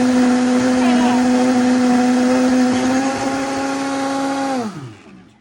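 A blender runs steadily at high speed, blending kale into a green smoothie, a loud constant motor whine with a humming pitch, then it winds down and stops near the end.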